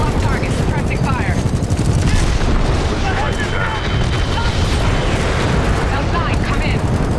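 Dense, loud Titanfall 2 gunfire, continuous rapid shots and booms of a firefight with distant radio voices mixed underneath.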